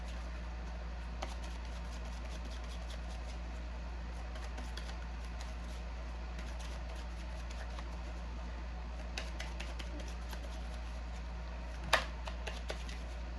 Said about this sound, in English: I'm going to go ahead and pull the tarot. I'm going to go ahead and shuffle these.